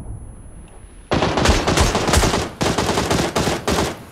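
Rapid automatic gunfire rattles in a shooter video game, with loud bursts beginning abruptly after a quiet opening second, then several separate volleys broken by brief pauses, close and sharp, with no talking.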